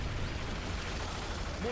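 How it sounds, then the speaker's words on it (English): Mortar explosions rumble in a Call of Duty: Ghosts battle, a dense, continuous low booming that fills the short stretch at moderate loudness. "Bro, look at all those mortars!"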